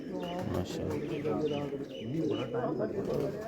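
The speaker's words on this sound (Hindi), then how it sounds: "उनका इमामुद्दीन कबूतर है जी" A champion racing pigeon named Imamuddin coos softly in low, rolling bursts, close by, with voices in the background.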